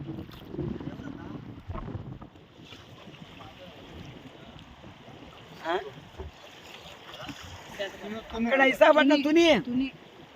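A first-time passenger boat ride on a river, with wind buffeting the microphone and water and hull sounds running steadily throughout; voices talk over it, and a louder burst near the end.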